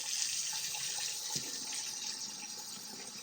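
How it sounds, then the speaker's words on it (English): Water runs steadily from a tap into a sink, a soft continuous splashing hiss with no voices. "I'm going to turn the water on."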